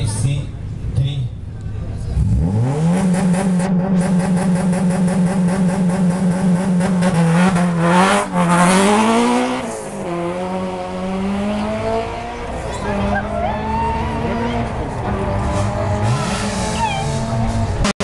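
A Honda Civic HC3-class rally car at a 2014 rally start near Sliven revs hard, then launches and accelerates away with rising engine pitch and tyre scrabble, while a commentator talks throughout.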